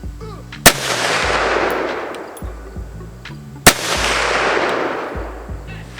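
Two sharp, loud shots from a Kel-Tec PMR30 pistol fired outdoors at a target 100 yards away, spaced about three seconds apart, each followed by a long fading echo across the range.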